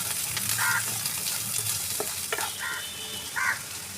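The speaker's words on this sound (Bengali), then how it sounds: "এবারে আমি গ্যাসে কড়া বসিয়ে সর্ষের তেল দেবো। তেল গরম হলে পরে অল্প গোটা গরম মশলা ফোড়নে দেবো।" Chopped onion going into hot mustard oil in a karahi over a gas flame, with whole garam masala tempering: a continuous frying sizzle with a few short scraping stirs and clinks, close and moderately loud, no talking.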